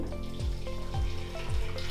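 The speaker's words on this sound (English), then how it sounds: "we boiled the kettle here, and then if we pour it into the scale" Freshly boiled water poured from a kettle into a container on a kitchen scale, a steady close trickling stream running throughout with a low hum underneath.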